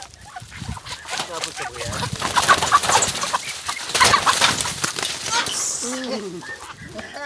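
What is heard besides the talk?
ducks quacking while being chased on a farm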